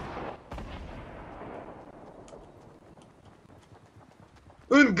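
A grenade launcher in Fortnite fires with a sharp, booming blast followed by a long decaying rumble and scattered smaller thuds, and a loud burst comes at the end; the game is heard without talk.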